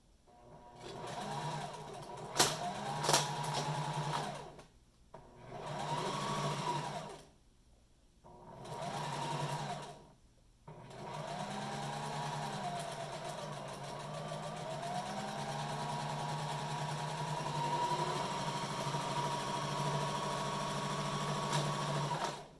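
Sewing machine stitching a narrow ribbon onto a duckbill face mask, running in several short bursts separated by pauses, then in one long steady run; a moderate, even motor hum with rapid needle chatter.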